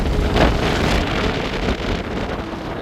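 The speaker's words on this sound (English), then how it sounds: "It's very windy. This spot is very windy." Strong wind blowing through a valley near volcanic rock carvings, loud and continuous, buffeting the microphone with a dense roaring rumble that barely varies across the short stretch; no speech.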